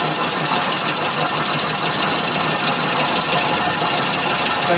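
A wood lathe spins a scrap wood bowl while a small gouge cuts it, giving a steady, dense, close whirring hiss with a continuous high whine and no pauses.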